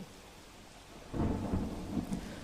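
During heavy monsoon rain in Pratapnagar village near Pavi Jetpur, Chhota Udepur, Gujarat, a low rumble of thunder breaks out suddenly over the faint wash of rainfall and rolls on until the end.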